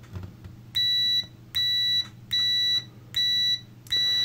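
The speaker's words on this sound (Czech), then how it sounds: "Takže vám teďka ukážu reakce na pípání a u toho vám řeknu změřený decibely ve vzdálenosti 50 cm od měřáku." Continuity beeper of a Mastool clamp meter: five loud, steady electronic tones, each lasting about half a second and evenly spaced, heard alone over faint room hum.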